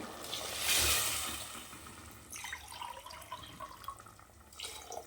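Running water pours steadily for a moment, then continues as a softer, splashy trickle into a cooking pot for mint rice, close by.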